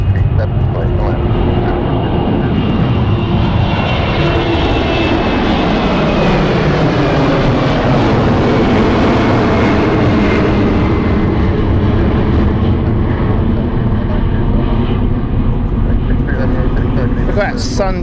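A fixed-wing airliner lands at London City Airport, its engine roar loud and continuous with a slowly shifting whine as it passes close by.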